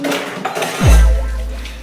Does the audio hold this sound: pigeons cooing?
no